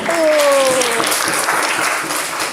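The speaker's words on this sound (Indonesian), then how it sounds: "Oke, kita kasih tepuk tangan kelompok 1." A class of students clapping together in a classroom, a dense steady wash of applause lasting a couple of seconds, with voices mixed in underneath.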